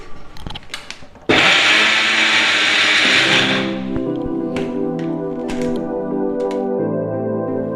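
A mixer grinder starts abruptly and roars loud and steady for a couple of seconds while powdering instant sambar premix, then spins down through a whirring, ringing decay with a few light taps.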